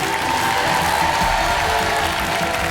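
Sustained applause and cheering from a large television studio audience, dense and steady throughout with no pauses.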